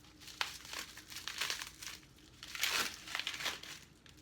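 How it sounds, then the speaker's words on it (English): Plastic packaging around a jar of raw almond butter is unwrapped up close, producing bursts of loud crinkling and crackling that rise and fall over a few seconds, with no talking. "Let me unwrap this."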